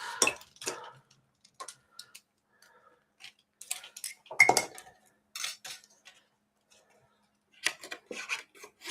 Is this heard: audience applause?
no